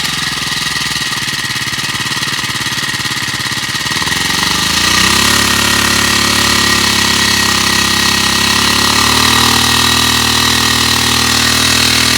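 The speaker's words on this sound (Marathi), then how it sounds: "आता त्यांनी मशीन पण चालू केली आहे आणि आत्ता ते फवारायला चालू करतात" A spraying machine's engine on a farm plot starts up and runs loud and close, a rough rattling idle that rises into a steady, droning hum.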